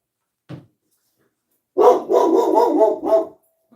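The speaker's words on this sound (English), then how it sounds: "If my dog barks, I apologize." A dog gives one short bark, then after a pause lets out a burst of loud, close barking and a final yelp.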